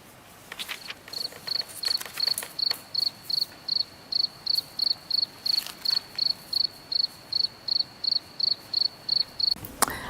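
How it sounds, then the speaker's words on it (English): A cricket chirping sound effect plays as a steady train of evenly spaced high, shrill pulses, about two per second, loud and clear over faint background hiss and a few clicks. "I would continue playing the cricket sound over this part"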